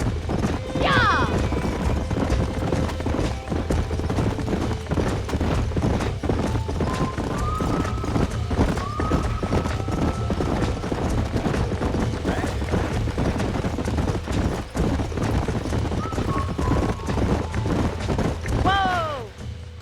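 Horses in the Western video game Red Dead Redemption gallop with continuous rapid hoofbeats, punctuated by whinnies and snorts, loud and close over a low rumbling bed, with faint voices in the mix.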